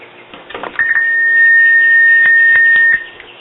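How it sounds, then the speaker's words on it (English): An automatic ringtone from an STU-5M signal terminating unit connected to a field phone: a steady, loud electronic tone holding for about two seconds over faint clicks. "it sends an automatic ringtone to the other end"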